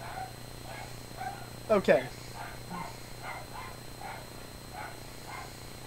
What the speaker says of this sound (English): those dogs are really loud